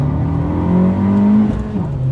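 A 2020 Abarth 695 70th Anniversario is driven hard around a technical circuit, its engine loud and close as revs climb, dip briefly under braking, then rise again as power goes back on.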